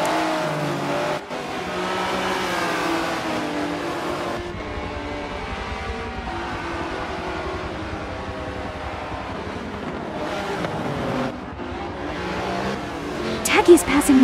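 Race cars engines running in Forza Motorsport 7 at Circuit de Catalunya, a steady mix of engine drone and revving throughout, with commentary spoken over the top and a louder burst near the end.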